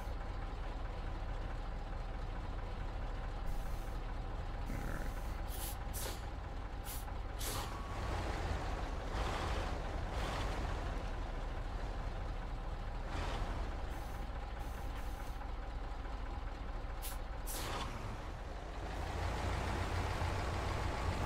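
Heavy truck in a Wisconsin-map driving game, engine idling and rumbling steadily throughout, with repeated sharp air-brake hisses and a reversing beep.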